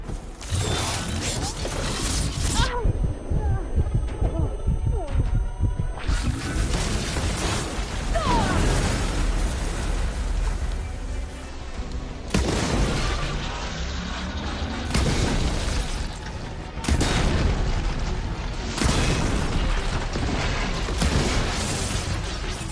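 A ballista firing in Horizon Forbidden West, repeated heavy booms and mechanical bursts spread across a long stretch of loud battle noise with occasional voices.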